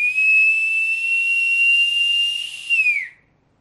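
A loud, piercing taxi-style human whistle made with the tongue folded back, held as one steady high tone for about three seconds before sliding downward and cutting off, close and alone.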